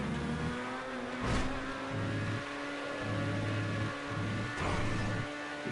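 Race car engine revving hard through a corner, rising and falling in quick pulses with sharp shifts in pitch, loud and close throughout.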